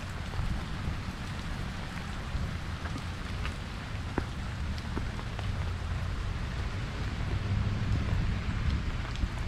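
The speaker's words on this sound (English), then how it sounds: "It's raining right now, it's pouring" Heavy rain pours steadily outdoors on the Fourth of July, a dense, continuous hiss and patter with some wind rumble and no talking, holding at an even level throughout.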